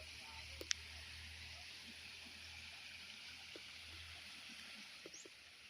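A river in a wild orchid habitat flows with a steady, even rushing hiss, broken by a few faint clicks and ticks from nearby.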